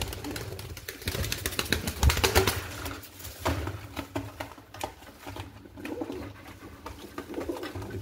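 Black fantail pigeons in a loft, cooing steadily close by, with fluttering, shuffling and pattering of feet layered over a busy background of other birds.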